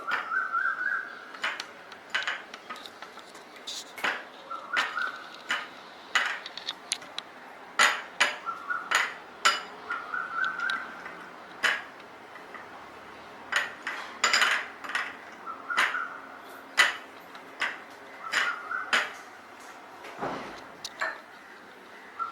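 A spoon clinks and scrapes against a bowl while spices are mixed for an aval mixture, giving irregular light metallic taps and rattles spread across the clip, close and fairly quiet.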